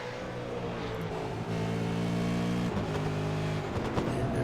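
Supercar race cars at Mosport racing through a double right-hand corner, a continuous dense engine roar with shifting pitch as cars accelerate and pass, loud and steady throughout.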